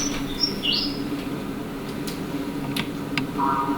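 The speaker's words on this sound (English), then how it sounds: "I've got the bird sounds that I've recorded" Recorded birdsong played back through music software, with brief high chirps and tweets over a steady low hum and faint background noise.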